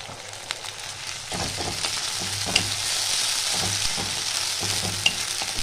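Garlic, ginger and cumin paste frying in a pan for a Bengali lau dum, with a steady close sizzle, scattered stirring scrapes and a few sharp clinks of a utensil against the pan.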